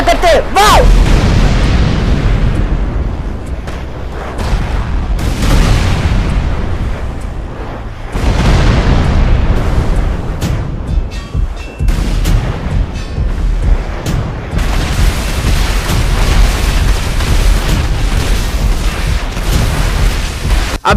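Explosions in the battle game Free Fire: loud, dense booming blasts and bursts of gunfire roll almost without a break, one surge after another over a continuous rumbling roar.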